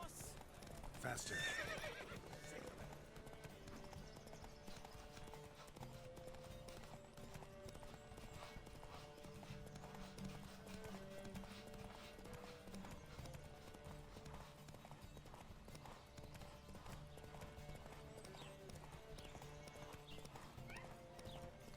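Horses race with steady clip-clop hoofbeats and occasional neighing in The Witcher 3, set under a continuous bed of game music, fairly quiet overall.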